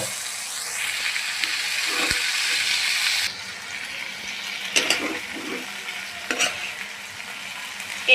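Taro stolons stir-fry in a pan with dried fish masala, a steady hiss and sizzle with a few scraping stirs, loud and close, and no talking.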